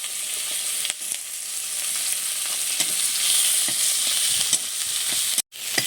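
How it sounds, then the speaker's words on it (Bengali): Chopped onion sizzles loudly in hot oil with whole cumin seeds and dried chillies, a constant close hiss with occasional soft stirring taps and a brief break near the end. "পেঁয়াজটাকে একটু ভেজে নিয়েছি"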